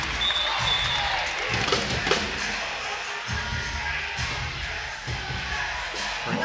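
At an NCAA women's volleyball match between UCF and Kansas, a gym crowd cheers and claps in a steady, roomy roar, with thuds from the court.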